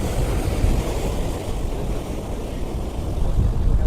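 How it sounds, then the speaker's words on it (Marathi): Ocean waves roll and break at Anjarle beach near Dapoli, a continuous, close, rushing surf wash with low rumble and some wind buffeting, steady throughout with no speech. "माझ्या पाठी वेव येत आहेत बघा"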